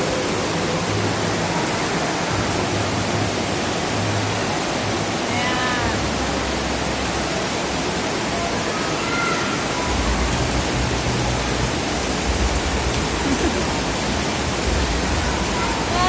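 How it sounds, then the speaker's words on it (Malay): Dense, unbroken rushing hiss of heavy rain pouring down for a long stretch during an outdoor closing ceremony, loud and constant, with faint voices now and then beneath it. "Suara hujan."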